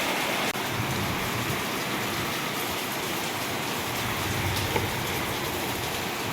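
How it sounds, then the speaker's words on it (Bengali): Heavy rain pours steadily under a white, overcast sky, a dense continuous hiss with no voices, holding even and close throughout. "পুরো আকাশটা দেখো, পুরো সাদা হয়ে একদম বৃষ্টি পড়ছে।"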